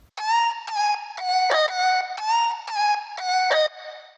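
A vocal chop reshaped with pitch and formant shifting, distortion and EQ boosting highs and cutting mids, playing a bright, buzzy rhythmic melody of short sustained notes alone and close.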